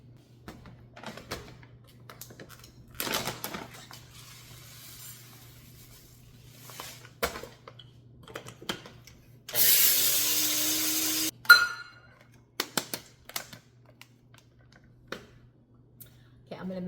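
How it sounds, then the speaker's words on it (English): Organic golden flax seeds whirred in a small electric grinder, a steady roaring buzz running for about two seconds, set among scattered kitchen clicks and taps. "I'm gonna grind up some of this flax seeds"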